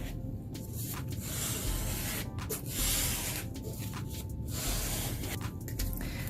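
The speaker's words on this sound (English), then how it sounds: "I take a card to make sure that I'm getting, you know, the paint evenly spread around" A card scraped across a poured paint canvas spreads the paint in repeated close, raspy swipes, a continuous hissing rub with short gaps between strokes.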